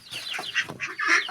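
Hens sitting on their nests cluck and murmur close by, a run of short rising and falling calls packed into just over a second, fairly loud and without talk.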